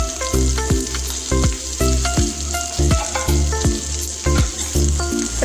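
Fish frying in hot oil as curry leaves are dropped on top, a loud close sizzle broken by repeated sharp crackling bursts and spits in an uneven rhythm.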